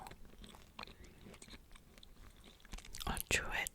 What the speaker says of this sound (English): I'll chew it for a little bit, and then I'll start talking.